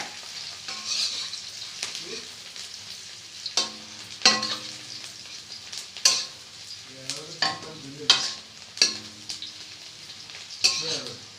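Meat being stir-fried with oil and onions for a Bengali koshano curry, a low frying sizzle broken by repeated sharp scrapes and clinks of a metal spatula against the pan at an uneven rhythm.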